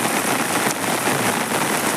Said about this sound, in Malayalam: ശക്തമായ മഴയാണ്